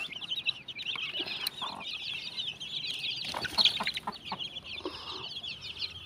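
Young chicks and hens out in the sun, a dense continuous chorus of high peeping chirps with lower hen clucks breaking through, close and lively throughout.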